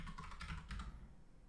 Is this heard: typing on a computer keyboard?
yes